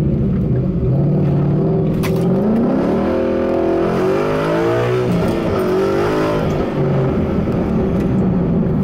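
A Ford Mustang GT engine revs hard close by, the AWE Touring Edition axle-back exhaust rumbling loudly as the pitch climbs and falls through a sustained pull.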